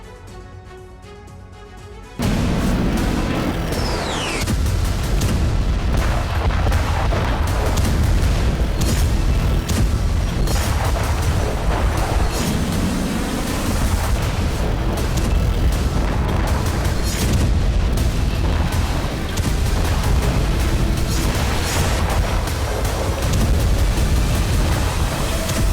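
Bombing in Syria, heavy explosions and booming blasts rolling in a dense, loud continuous barrage after a quieter opening, with rumbling low end and scattered sharp cracks.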